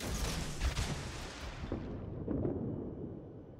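Warship guns firing in the naval video game World of Warships, a burst of heavy booming blasts with a deep rumbling tail fading over a few seconds.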